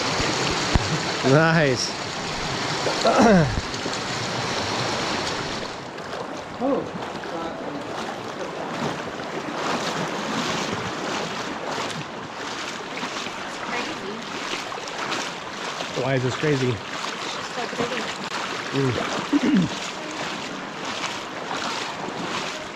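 Stream water runs down the West Fork canyon in Zion National Park, Utah, a continuous rushing wash mixed with wind buffeting on the microphone, while people talk briefly now and then over it.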